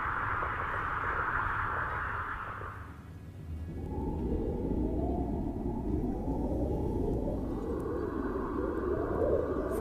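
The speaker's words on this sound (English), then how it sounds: "we do use real space sounds" Real space sounds recorded by the British Antarctic Survey come as a dense hiss of chirps and crackles under a smooth, high, steady band. The band drops away and gives way to a lower, wavering rumble with rising tones.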